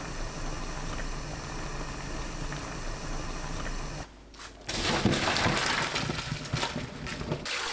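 A steady rolling boil of salted water with broad bubbling hiss, briefly dipping quieter, then surging louder and busier as more young napa cabbage drops into the pot over high heat.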